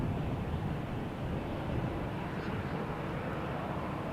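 A Transavia Boeing 737 lands on the Polderbaan at Amsterdam Schiphol, a broad, steady jet roar at a distance, mixed with wind buffeting the microphone.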